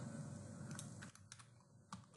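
Someone types on a computer keyboard, entering a search phrase while designing a web page: a quiet, uneven run of soft key clicks over a low steady hum, with no talking.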